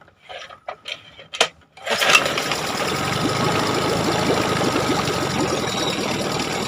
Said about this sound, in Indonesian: Oke, kita jalankan mesinnya.